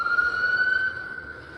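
An ambulance siren wails at a steady high pitch on the street, fairly close, then fades slightly as it continues.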